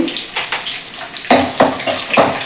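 Peanuts and crushed garlic fry in a pan for a North Karnataka mandakki oggarane, a soft sizzle that jumps into three louder bursts of crackle and spatter in the second half, close and with no talk.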